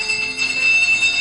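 A doorbell rings loudly and continuously indoors, a sustained bright electric ringing with no talking over it.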